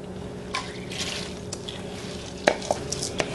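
Pandan mixture stirred in a pot before glutinous rice goes in, giving soft, steady liquid swishing with a few sharper clinks and drips against the pot, close and fairly quiet, with no talk.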